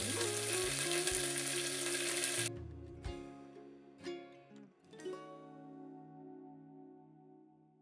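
Onions, curry leaves and green chillies with mustard seeds and urad dal frying in a pan, a loud steady sizzle that suddenly drops to a quieter crackle with a few knocks of a spoon stirring.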